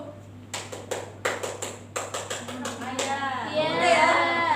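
Schoolchildren in a classroom clapping game, a series of sharp separate hand claps in short groups, close and crisp, followed by children's voices chattering and shouting.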